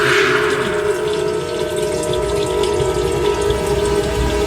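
Water runs steadily from a bathroom tap left open, a continuous loud rush with no voices.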